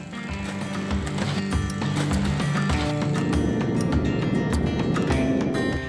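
Horses brought by the Buffalo Soldiers clip-clop in a steady, dense run of hoofbeats, loud and continuous over a busy background, with no talking.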